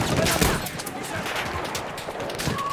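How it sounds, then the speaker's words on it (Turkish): Enemy machine gun fire rattles in a dense, continuous burst across a World War I battle in the Venetian Alps at Monte Grappa, 1918, loud and close throughout. "Mitragliatrice nemica localizzata! Sparano"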